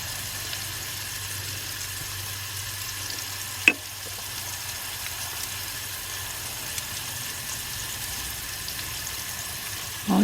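Crab cakes frying in a pan on a gas stove, a steady soft sizzle running throughout with a single sharp clink partway and a brief knock at the end.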